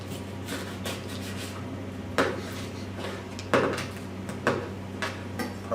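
A knife carving through the crisp skin and meat of a deep-fried Christmas turkey, giving soft scraping and rubbing strokes with several sharper crackling cuts and clicks against the board, close and alone.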